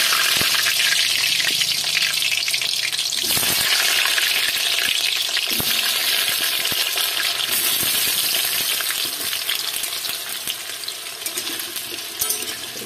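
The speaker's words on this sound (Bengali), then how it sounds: "তেলের মধ্যে আমি আলুগুলো ছেড়ে দিয়ে ভেজে নিচ্ছি" Potatoes dropped into hot oil for a mutton dish, giving a loud continuous sizzle with scattered pops and crackles that eases slightly toward the end.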